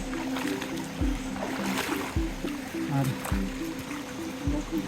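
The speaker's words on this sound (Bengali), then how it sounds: "ঝর্ণার পানিগুলো এখান দিয়ে প্রবাহিত হচ্ছে" Stream water from Khaiyachhara waterfall in Mirsarai, Chittagong, flowing and splashing nearby, with repeated thuds and footsteps and someone talking briefly over it.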